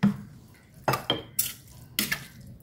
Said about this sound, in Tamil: அதனால் மத்திலேயே மசிச்சுக்கிறேன்.